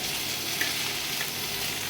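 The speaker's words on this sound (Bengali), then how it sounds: "দিয়ে ভালো করে আমি নেড়ে চেড়ে নেবো।" Bitter gourd and potato slices fry with turmeric in hot oil, giving a steady, dense sizzle that stays close and even throughout, with a faint stir partway through.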